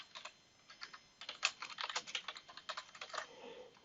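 Fingers tap quickly on a computer keyboard in an uneven, continuous run of light clicks, close and fairly quiet, with no voices.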